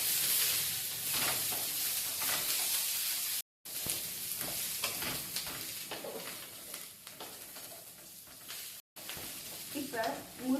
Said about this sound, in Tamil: இப்படி நல்லா வதக்கணும்.